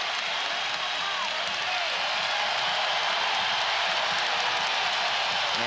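A college basketball arena crowd roars steadily during an early BYU Cougars versus Arizona Wildcats game, a loud continuous wash of cheering and noise with no break.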